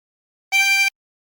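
Hole 7 of a chromatic harmonica is blown once, producing one bright, buzzy-edged sustained note lasting under half a second, close-miked and isolated in silence.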